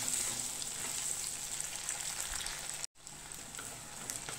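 Garlic and onions with curry leaves sauté in a pan, giving a steady, even crackling sizzle that runs unbroken apart from one momentary dropout, with no speech.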